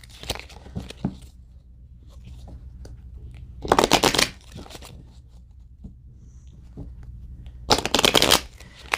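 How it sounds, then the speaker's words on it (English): A deck of tarot cards is shuffled by hand in two loud riffled bursts, separated by quieter handling taps and rustles, close up and with no talking. "Sorry, I just felt like I needed to shuffle those."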